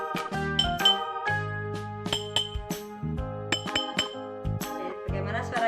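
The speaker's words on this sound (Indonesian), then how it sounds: "3 buah botol ini kita biarkan kosong ya. Kemudian kita pukul dengan sendok." Empty glass bottles struck with a spoon ring out in a quick series of bright, sustained clinks and tinkles at varying pitches, close and clear, with no talking over them.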